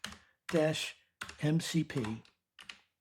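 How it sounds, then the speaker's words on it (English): A package name being typed on a computer keyboard, its soft key clicks mostly buried beneath a person speaking close to the mic. "We know the exact name, so let's type it in right here."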